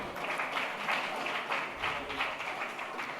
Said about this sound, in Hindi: बिल्कुल यही ताली की आवाज मुझे लगता है कि जब जब सम्मानित होते हैं तब तब ऐसी आवाज आनी चाहिए तालियों की